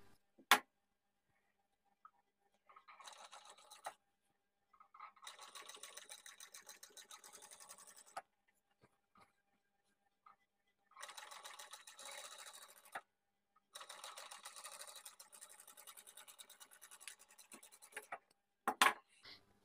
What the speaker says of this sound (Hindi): अब एक सिलाई हमें इस साइड में लगा लेना है